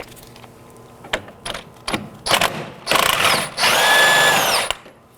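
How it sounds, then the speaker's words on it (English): An impact gun fitted with a 24mm socket removes the steering rack jam nut on a 2018-2024 Chevrolet Equinox, giving several short mechanical bursts and then a loud, sustained whirring run up close, with no talking. "Now to remove the jam nut, I'll be using a 24mm on an impact gun."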